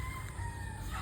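On a gamefowl farm a young stag gives a faint, distant crow, a single thin, steady call low behind quiet background noise, with no voices.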